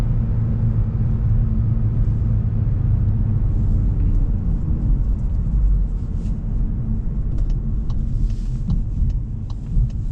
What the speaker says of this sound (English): Try a downshift here, just like that.